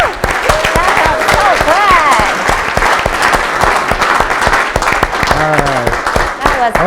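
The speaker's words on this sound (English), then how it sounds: "big round of applause, guys." An audience at a real estate investor event breaks into a big round of applause, loud sustained clapping mixed with cheers and voices throughout.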